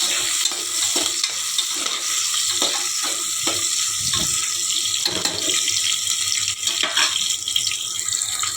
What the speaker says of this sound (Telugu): దాంట్లో పచ్చిమిర్చి, ఉల్లిపాయలు వేసుకోవాలి. దాన్ని బాగా ఫ్రై చేయాలన్నమాట